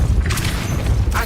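In the Hogwarts Legacy video game, a gate mechanism opens after the Depulso spell, heavy low rumbling and clanking with a booming thud and a sharp burst near the end, loud and close.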